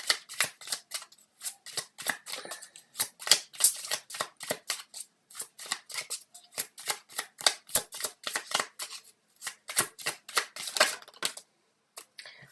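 Tarot cards being shuffled by hand: rapid, crisp riffling and flicking bursts in an irregular rhythm, close and clear, with brief pauses between runs and no talking.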